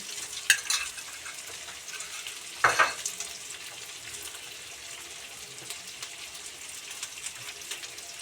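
Soft, steady sizzle of garlic frying in oil, with a couple of brief clatters from stirring near the start and middle.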